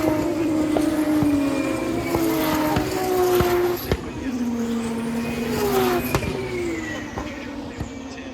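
Formula racing cars sweeping past on a circuit during a sprint race, steady high-pitched engine whine rising and falling with gear changes and Doppler sweeps, under continuous commentary.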